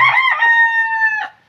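A chicken lets out a single loud, drawn-out call, close by and clear, lasting just over a second before breaking off.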